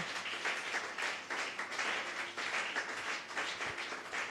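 Congregation clapping in church, a close, steady rhythmic applause in repeated waves of claps that keep going throughout.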